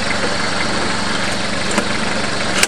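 A small engine runs steadily and close, a continuous even drone with no talk and a brief knock near the end.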